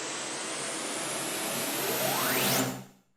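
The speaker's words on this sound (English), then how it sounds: "I mean your classic risers that sound like this." A rushing, noisy riser swell climbs steadily in pitch like a building whoosh, peaks loudly, then cuts off abruptly into silence.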